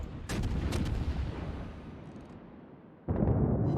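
Heavy warship broadside salvos in World of Warships: a loud booming volley at the start rolls into a long rumbling decay, then a second powerful broadside erupts near the end, close and dominant with no talk.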